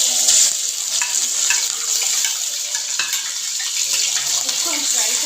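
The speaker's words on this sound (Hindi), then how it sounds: "इसको हम फ्राई करेंगे।" Loud, steady sizzling of ginger garlic paste frying in hot oil for chicken karahi, with occasional clinks and scrapes of stirring in the pan.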